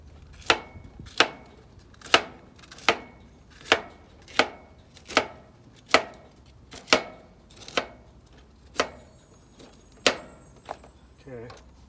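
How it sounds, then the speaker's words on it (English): Cauliflower being broken apart by hand into smaller pieces, giving about fifteen sharp, evenly spaced cracking snaps, close and clear over a quiet background. "these we will break into smaller pieces to make it roast evenly and quickly"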